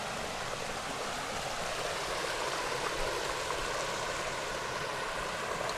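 Clear, cold river water flowing on a farm, a steady close rushing and bubbling wash that fills the whole stretch evenly, with no talking.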